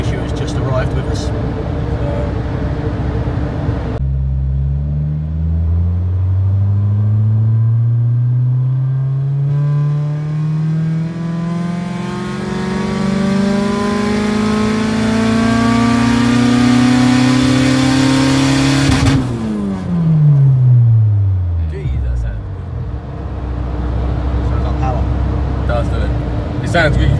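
A tuned car engine on a dyno revs up in one long, rising sweep, then drops back sharply toward idle. Heard close and loud, with talk around it.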